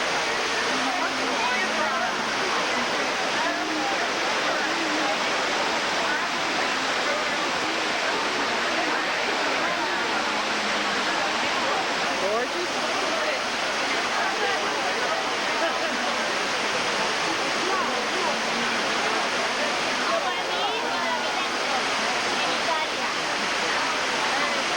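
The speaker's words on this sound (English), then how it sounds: "This is famous Tivoli fountain." Water rushes and splashes steadily at the Trevi Fountain in Rome, a broad, constant roar that fills the whole stretch with no break.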